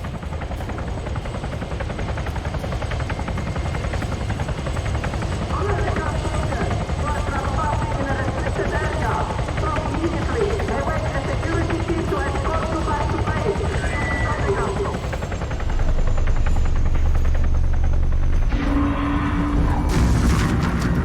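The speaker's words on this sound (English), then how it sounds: "Oh no. There's a helo." Military helicopter in the Arma 3 video game passes overhead as a continuous loud rotor drone through battle chaos, swelling heavier near the end, with people talking over it throughout.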